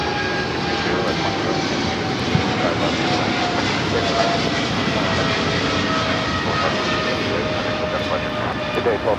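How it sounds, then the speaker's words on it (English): A Polar Air Cargo Boeing 777 freighter flying for DHL takes off from Los Angeles with a sustained, loud jet engine roar, while a voice murmurs faintly underneath. "This is DHL operated by Polar Air Cargo 992 taking off to Cincinnati on the 777 freighter."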